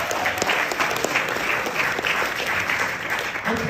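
A high school senior audience breaks into a dense, steady round of applause that fills the room at moderate loudness, with scattered sharper claps and faint crowd murmur underneath.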